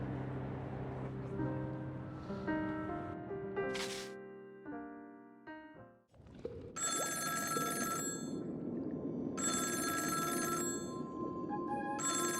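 A phone rings in the video game Honkai: Star Rail, its repeated bright electronic ringtone pulses standing out over soft game music and ambience, with the tone bursts coming in regular spaced rings.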